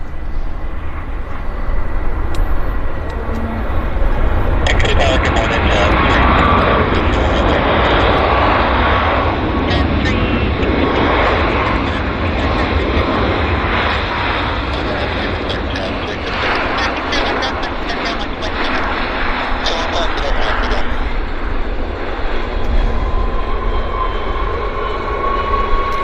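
A Boeing 737 MAX airliner lands at Vancouver airport with a sustained loud roar of engine noise and rushing air that swells and holds for about twenty seconds before easing slightly, heard from a distance outdoors.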